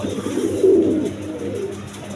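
Pigeons give a short, low, throaty coo close by over a soft background hum, with no talking.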